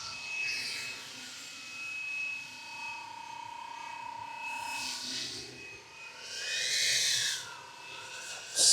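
A Fly Wing EC135 RC helicopter hovers outdoors in wind. Its steady electric motor whine holds an even pitch while gusts of wind noise swell and fade across it.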